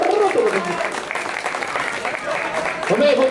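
Applause rings out from the audience at a Brazilian rap battle, a loud, continuous clatter of many hands with voices talking and calling over it.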